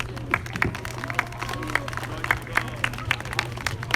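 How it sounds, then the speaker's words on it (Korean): An audience of local residents and students applauds at a commemoration of the March 1st independence movement, scattered claps ringing out over a low steady hum, moderately distant and modest in volume. "큰 박수 부탁드립니다"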